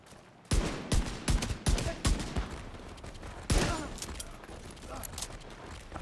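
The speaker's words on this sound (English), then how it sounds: "Now he's gonna shoot in the back." Gunfire in The Division 2 comes as a series of sharp, close shots in quick bursts, then a heavy volley and scattered fainter shots afterward, with faint voices underneath.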